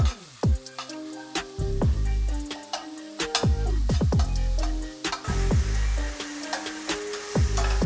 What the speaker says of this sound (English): We're gonna start by putting this mince into this pan.